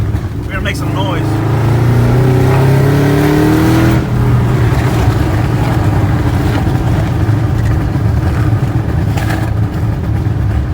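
A Pontiac GTO engine revs loudly and roars continuously up close, with the pitch climbing during the first few seconds, then holding a heavy, sustained drone.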